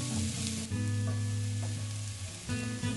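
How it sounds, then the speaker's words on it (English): Minced garlic sizzles steadily in olive oil in a pan over medium heat, a continuous close frying hiss with occasional soft scrapes of stirring and no talk. "Cook on medium heat, stirring frequently until garlic is cooked."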